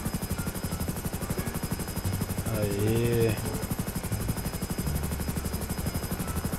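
Helicopter rotor in GTA 5 beats in a fast, steady chop throughout, loud and close, while a voice speaks briefly over it.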